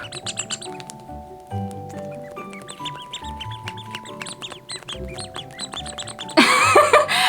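Vintage squeaker toy birds give repeated high, tonal squeaks and chirps in quick irregular bursts, close and fairly loud, ending in a brief rough scratchy noise.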